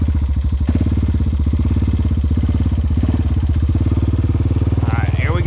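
A Honda Rancher ATV engine chugs loudly and steadily up close with a rapid, even putter while driving through thick mud.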